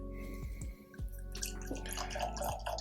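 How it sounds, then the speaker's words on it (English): Water is poured into a glass of Bowmore 12 Islay single malt whisky, a close trickle with distinct drips and small splashes that builds into a brighter, busier pour near the end. "I say we pour another glass and open it up with water and see if it changes at all."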